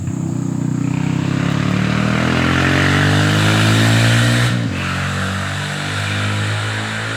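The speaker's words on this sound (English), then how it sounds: "that was evil Bo Weevil on his dirt bike" A neighbor's dirt bike passes nearby, its engine note rising as it approaches, peaking loudly, then dropping sharply in pitch and trailing off into the distance.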